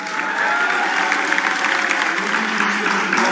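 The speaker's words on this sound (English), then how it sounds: "Let's get some applause" Steady applause from an audience at a podcast awards show, dense and sustained throughout with no gaps, moderately loud and evenly spread.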